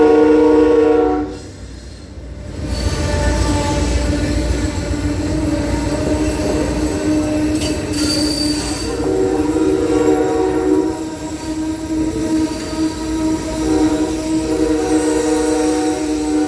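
An Amtrak passenger train heading to Reno rolls along the rails with a loud, steady rumble and clatter inside the car, with brief squeals and a horn-like tone partway through.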